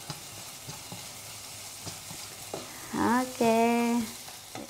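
Rice vermicelli fries in a large pan over a turned-up flame, a steady soft sizzle with stirring scrapes, then a brief voiced word that overlaps the crackle near the end.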